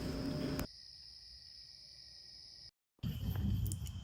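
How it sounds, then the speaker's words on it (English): Crickets chirp at night at the Red Fox campground in Minneopa State Park near Mankato, a faint, steady high trill in an otherwise quiet dark, broken by a brief moment of silence before the chirping returns. "It's so dark and quiet. You can only hear cricket."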